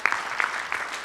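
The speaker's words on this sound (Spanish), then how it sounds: "Muchas gracias a la doctora Juliana, un aplauso para ella." Audience applause at a medical talk on multistrain probiotics, a brief burst of clapping with a few sharper accents, moderately loud in a hall.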